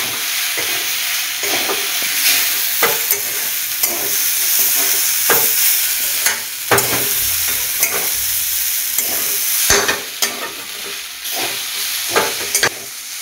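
Rice is stirred into a sizzling frying pan of tangy spicy chicken rice, the steady frying hiss broken by repeated close scrapes and clacks of the spatula at an uneven rhythm.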